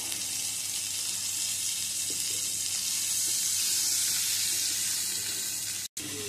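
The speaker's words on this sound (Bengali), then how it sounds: "এবারে এই তেলের মধ্যেই পটলগুলো দিয়েও পটলগুলো একটু লাল করে ভেজে নেব।" Pointed gourd (potol) pieces fry in hot oil with salt and a little turmeric, giving a steady, even sizzle throughout, close and continuous, with one brief dropout near the end and no talk.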